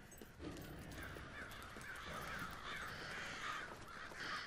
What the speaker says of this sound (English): A bunch of crows.